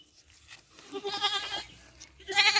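Young male goat kids of the Totapuri breed bleat in a livestock sale pen, several wavering calls overlapping at close range, louder toward the end, with no talk.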